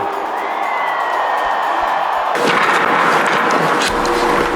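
A large crowd breaks into loud, dense applause and cheering, a continuous roar of clapping that swells partway through and holds steady to the end, with no voice over it.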